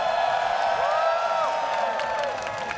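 A Combo Breaker tournament crowd cheers and whoops for a fighting-game player before the Under Night In-Birth 2 grand finals, a loud, steady roar with scattered shouts and rising whistles.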